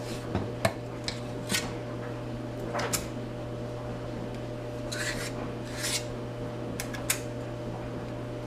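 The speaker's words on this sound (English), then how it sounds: "So I'm going to scrape all this off of here." Spatula scraping cookie dough off the sides of a mixing bowl in a home kitchen, a few short soft rasping strokes spaced apart over a steady low appliance hum.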